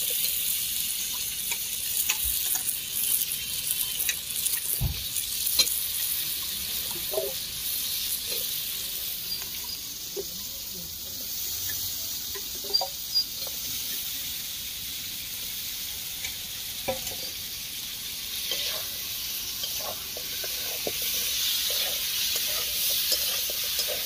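Potatoes frying in a pan over a wood fire: a continuous bright hiss and sizzle throughout, with scattered stirring knocks and faint crackles, close and without talk.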